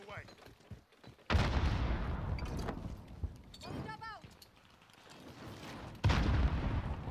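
A grenade blast and gunfire in the video game Call of Duty: Warzone on the Caldera map, with two heavy, sudden booms several seconds apart and rumbling fire between them, while players talk.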